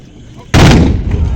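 Tbourida fantasia riders fire their muskets together in one loud, close volley that booms sharply and then echoes into a rumbling decay.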